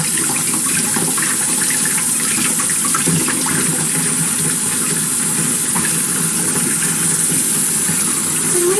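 Running water rinsing a chicken gizzard clean during home butchering, a steady, loud rushing stream from start to end with no talk.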